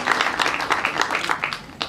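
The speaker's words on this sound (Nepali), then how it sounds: "जोरदार ताली यो जोडीका लागि" A crowd at a film press meet claps for an actor pair, a dense burst of rapid, fairly close hand claps that continues steadily and tapers off near the end.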